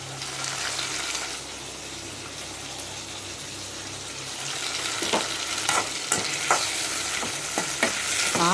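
Ginger and garlic sautéing in a pan until soft, a steady sizzle with stirring scrapes and a few sharp utensil clicks toward the end, no voices.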